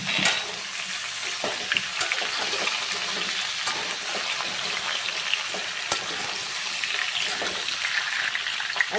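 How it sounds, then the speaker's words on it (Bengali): Vegetables sautéing in oil with whole cumin, bay leaves and whole garam masala (cardamom, cinnamon, cloves) for khichuri, a steady continuous sizzle with occasional stirring scrapes, close and even throughout. "আর এখন আমি সবজিগুলোকে ভালো করে কষিয়ে নেব।"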